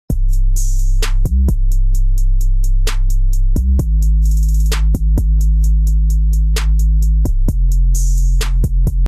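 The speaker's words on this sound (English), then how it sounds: "So I'll play the drums with the 808." Trap drums for a beat play over a grimy, low, distorted 808 bass that holds long sliding notes; loud and full, hi-hat rolls and snares on top, no talking.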